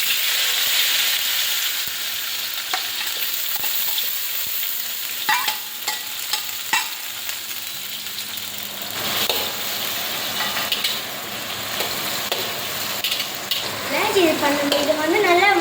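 Onion, garlic, tomato and chili sautéing in hot oil in a pan make a loud, continuous sizzle. Spatula stirring and scraping taps recur throughout, and the frying swells again near the end.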